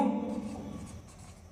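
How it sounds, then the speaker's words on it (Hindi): A short burst of scratchy rubbing as a teacher writes notes on a board, close and soft, fading after a quick stroke. "मैं इसको लिख दे रहा हूँ"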